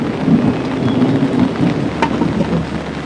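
Heavy rain pours steadily while low thunder rolls underneath, a loud dense hiss of drops on surfaces with a rumbling body and no clear separate crack.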